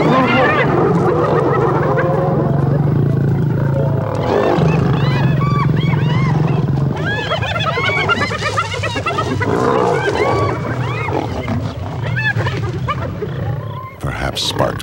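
Wild lions and a hyena clan clash in a fierce battle, a loud, chaotic mix of roars, growls and frantic whooping cries, with a narrator speaking over the fighting.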